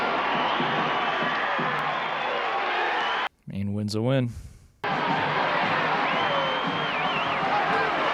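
Crowd cheering and hubbub at a wrestling match from a film, loud and continuous apart from a short break where someone speaks.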